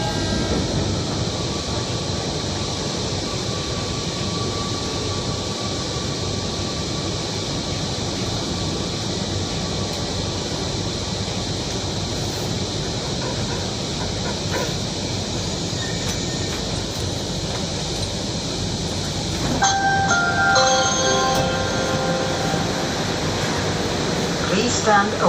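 Inside a moving Kochi Metro train, a steady, loud rumble and rushing hum fills the carriage without a break. Faint tonal whines rise near the end.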